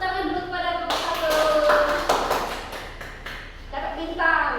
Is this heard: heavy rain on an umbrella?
no